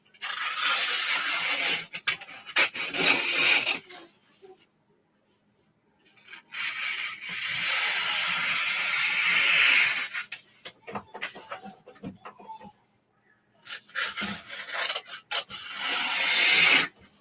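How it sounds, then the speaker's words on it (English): The edges of a sublimation print are trimmed away in three long, close rasping scrapes with near-silent pauses between them. "Then I'm going to trim the entire print down."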